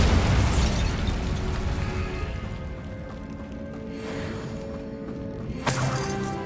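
Bombarda spell blast in Hogwarts Legacy: a loud explosive burst at the start decaying into rumbling debris, then a second sharp crack near the end.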